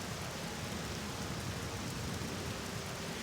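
Rain falls in The Elder Scrolls III: Morrowind, a steady, dense hiss of game weather that keeps an even level throughout, with no voices.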